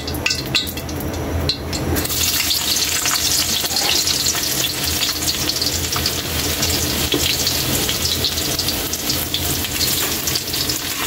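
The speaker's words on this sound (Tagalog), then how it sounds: "Ilagay na natin yung bawang." Garlic hits hot oil in a pan with a loud, sudden sizzle that settles into a continuous close frying hiss, with some stirring, while chicken sotanghon soup is being prepared.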